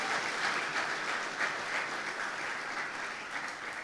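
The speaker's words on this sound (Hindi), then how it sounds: "जोरदार तालियां इस खुदा के लिए" Congregation in a church breaking into sustained, dense applause, a steady wash of many hands clapping at moderate distance with no talk over it.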